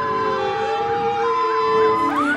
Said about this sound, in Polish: a gdy trumny składano do grobu, rozległ się przejmujący dźwięk syren alarmowych